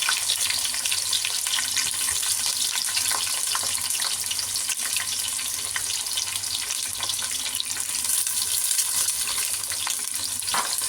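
Onions frying in a clay pot for chicken biryani after whole spices like cinnamon, cloves and cardamom, a loud continuous sizzle with repeated scraping stirs and clinks, close up and free of speech.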